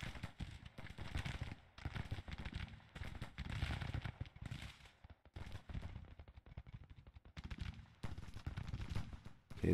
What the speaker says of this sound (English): Okay, these guns are firing.